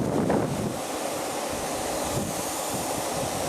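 Strong wind buffets the microphone outdoors, a constant loud roaring rush with slight gusting surges and no pauses or voices.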